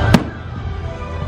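A single sharp boom of a firework bursts near the start at Disney World, followed by a low rumbling crowd-like wash of background noise.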